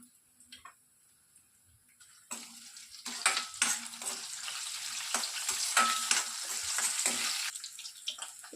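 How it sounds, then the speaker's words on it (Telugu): Mustard and cumin seeds and garlic cloves drop into hot oil. After a quiet start, a sudden sizzle breaks out, full of sharp crackles and popping ticks, and keeps spluttering close by. "ఆయిల్ బాగా హీట్ ఎక్కిన తర్వాత నేను జీలకర్ర ఆవాలు అన్నీ మిక్స్ చేసినటువంటి పోపు గింజలను వేసేసుకుంటున్నాను"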